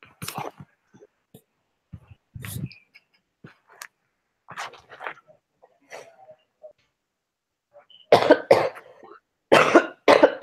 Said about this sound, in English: Sorry, I'm like coughing into this.